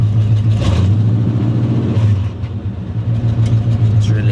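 Loud, steady engine running on a Chevrolet Camaro, a deep low rumble with a slight revving swell, close and continuous with faint talk underneath.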